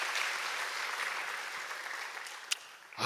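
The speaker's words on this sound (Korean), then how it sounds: "뜨거운 격려 박수 다시 한번 보내주세요" A church congregation at an early-morning autumn revival service applauds in encouragement, a dense, steady wash of clapping that holds for a few seconds and thins out near the end.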